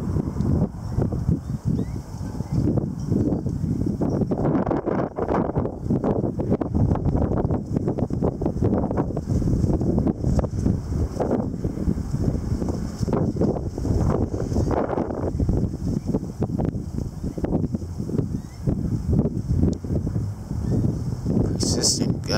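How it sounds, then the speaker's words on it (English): Strong wind gusts during an April wind storm roar continuously into an exposed microphone, a loud, rumbling buffeting that surges and eases in uneven waves over more than twenty seconds. "Persistent gusts."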